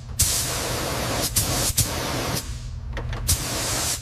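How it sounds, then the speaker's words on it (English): Repeated bursts of spray as gray primer is laid onto a welded boiler patch on a scrapped locomotive under restoration, hissing on and off in short passes with brief gaps between. "we're laying down the first coat of primer on the boiler patch now"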